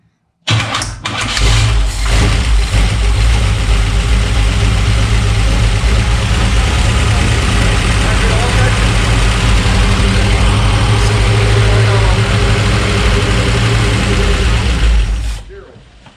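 A 1952 Ford F1 pickup fitted with a Chevy 350 V8 cranks briefly, catches and settles into a loud, steady idle that rumbles close by for the rest of the clip before cutting off, with voices now and then beneath it.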